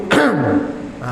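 A single short throat clearing, a gruff rasping 'ahem' up close, followed by a faint trailing hum.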